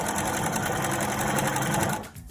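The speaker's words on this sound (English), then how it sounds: "I'm gonna do stitch and back stitch" A sewing machine runs steadily through a three-layer fabric face mask, stitching and back stitching in a continuous fast whir before stopping abruptly near the end.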